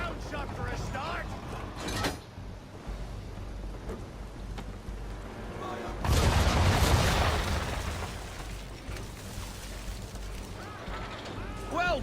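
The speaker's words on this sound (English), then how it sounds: "Bring around broadside, and when all guns are on target, call fire." Cannon broadside fired from a ship in the Assassin's Creed 3 video game: a heavy, booming burst of gunfire rolls in around the middle, amid constant rain-like game ambience, with a voice heard over it.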